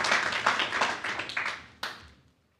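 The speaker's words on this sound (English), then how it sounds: "Well, if you would stop clapping" A room full of people claps at a county commissioners meeting, a dense patter of hands that thins out and then gives way to one last sharp burst before fading into quiet.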